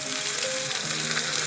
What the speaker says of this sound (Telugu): చూడండి తాలింపు వేస్తున్నాను రైతాలోకి.